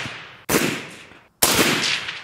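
Two loud, sharp rifle shots from a Saiga SGL-21, a Russian AK, fired during 100-meter five-round group shooting, each crack followed by a long echoing decay with a brief silent gap between.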